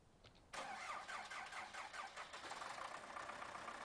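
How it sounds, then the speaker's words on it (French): An MTZ tractor engine cranks and catches abruptly, then settles into a rough, rattling idle that continues steadily, fairly close, with no talking. "Alors, on va le démarrer."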